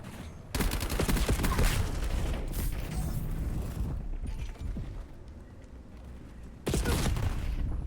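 Grenade explosions and heavy gunfire in Black Ops 7, a loud, dense barrage that starts abruptly, thins out for a few seconds, then returns in a second loud burst near the end.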